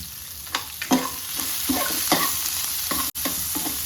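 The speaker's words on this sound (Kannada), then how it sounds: "ಈರುಳ್ಳಿ ಫ್ರೈ ಮಾಡುವಾಗ ಒಂದು ಸ್ವಲ್ಪ ನಾವು ಉಪ್ಪು ಹಾಕ್ಬಿಟ್ವಿ ಅಂದರೆ ಈರುಳ್ಳಿ ಬೇಗ ಫ್ರೈ ಆಗಿಬಿಡುತ್ತೆ" Onions fry in a pan with a pinch of salt for a mango chitranna tempering, giving a steady sizzle broken by repeated scraping stir strokes. No voices are present.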